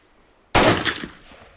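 A single sharp Beretta ARX100 rifle shot in a video game cracks close and loud, then trails off in a short echoing tail, heard alone.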